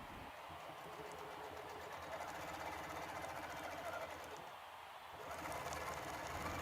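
Sewing machine quilting straight lines while a quilter guides rulers behind the needle: a steady, fast mechanical whirring that hums continuously, pausing briefly near the end before resuming, fairly faint and alone.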